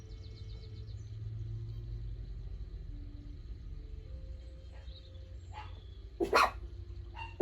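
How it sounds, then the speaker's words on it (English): A dog barks a few times near the end, sharp and fairly close, after a stretch of low rumbling background noise. "Sorry about the dogs."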